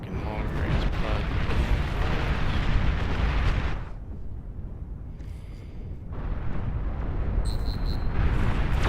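Long-range plasma cannon fire in the strategy game Beyond All Reason produces a loud, rumbling wall of explosions that drops away briefly midway, then resumes with heavy booms and a few sharp high pings.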